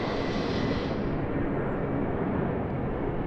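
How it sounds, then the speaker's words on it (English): Aircraft at Sydney Airport, heard as a loud, steady broadband roar of jet engines that holds for the whole stretch without any talk. "one aircraft over here"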